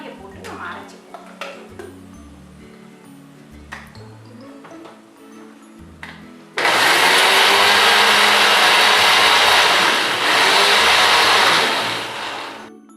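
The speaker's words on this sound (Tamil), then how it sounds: "இப்போ அந்த தக்காளியை போட்டு நம்ம அரைச்சிப்போம்" A kitchen blender grinds tomatoes for a South Indian pomfret fish curry, starting abruptly halfway and roaring loud and steady for several seconds before winding down, after a stretch of faint background talk and clinks.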